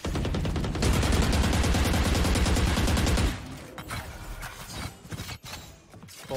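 Gunfire in the video game Valorant: a loud, dense run of rapid shots lasts a few seconds, then breaks into scattered single cracks and short bursts.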